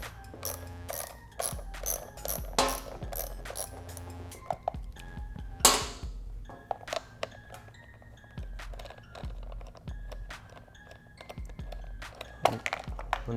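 A ratchet wrench working an 8mm hex bolt on a Honda CBR1000RR fender during a fender eliminator install, with quick bursts of close clicking, a sharp clunk midway, then more intermittent ratcheting clicks.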